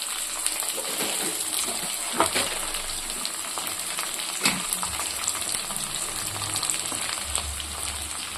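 Shallots and curry leaves fry in a pan, a steady quiet sizzle with a few sharp spatters and stirring scrapes throughout.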